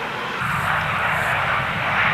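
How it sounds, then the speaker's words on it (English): A fast electric car, the Eliica, rushes past at over 300 km/h with a smooth, loud whooshing roar that swells and holds, with no engine rumble and no talking. "A streamlined car flashes by at over 300 kilometers per hour."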